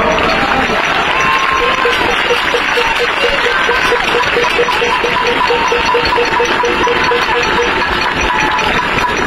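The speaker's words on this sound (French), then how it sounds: "On peut l'applaudir une nouvelle fois." A crowd at a Paris street demonstration applauds in a loud, sustained burst of dense clapping that fills the space, with voices mixed in.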